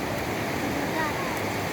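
Steady flowing water of the Quimbiri river in Cusco, Peru, a continuous broadband rush heard close and fairly loud, with no clear voices over it.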